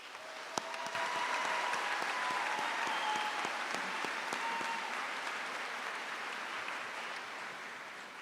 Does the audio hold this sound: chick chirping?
no